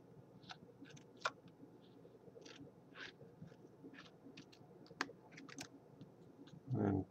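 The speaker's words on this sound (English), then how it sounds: "So now we will cut the card." Scissors snipping through an old plastic credit card, a quiet series of sharp, irregular clicks and snaps at close range, ending in a brief louder rustle.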